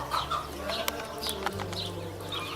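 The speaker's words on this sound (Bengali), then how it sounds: "একটি মুরগি চড়ে বেড়াচ্ছে আপনার পিছনে" A chicken roaming free on a farm in America clucks in short repeated calls, fairly close, with steady outdoor ambience and no one speaking.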